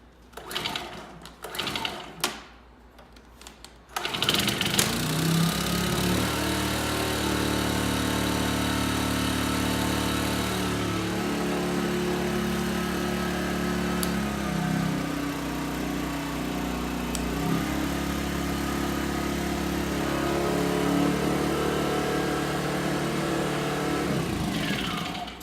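EGI1000 mini generator, already warmed up and not on choke, being started: a few sharp pull-start rattles, then the engine catches and settles into a loud, steady running drone that continues to the end.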